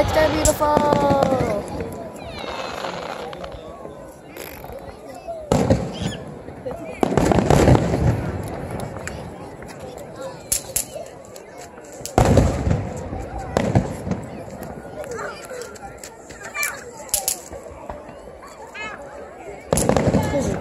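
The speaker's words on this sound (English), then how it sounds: "Fireworks! They're beautiful!" Fourth of July fireworks burst in loud, sharp booms and crackles at irregular intervals, several big explosions standing out over a steady background of outdoor noise.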